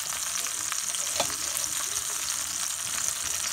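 Soft, sweet onions fry in a pan on a stove top, giving a continuous close hiss of sizzling with faint stirring scrapes, steady and unbroken, with no talk.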